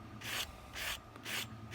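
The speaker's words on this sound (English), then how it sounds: "we're taking our real soft sanding block and just at an angle hitting the edges of the drive teeth" Soft sanding block rubbed at an angle across the metal drive sprocket teeth of a Tamiya 1/16 Jagdpanther model tank, three short quiet scratchy strokes in an even rhythm, close up.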